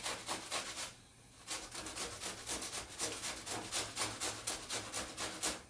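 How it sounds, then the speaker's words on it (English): Cucumber being grated for a dip, giving quiet, rhythmic rasping strokes in a steady back-and-forth pattern with a short pause near the start, close up, with no talking. "So when you're grating, you just want to move it all around."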